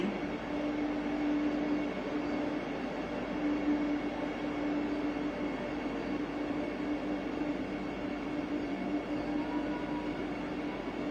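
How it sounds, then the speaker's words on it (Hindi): The ninth Vande Bharat Express, on the Mumbai–Solapur route, runs with passengers aboard, giving a steady, continuous rumble and rolling rail noise with a faint sustained tone throughout and no breaks. "यात्री इस 9वीं वंदे भारत एक्सप्रेस में यात्रा कर रहे हैं"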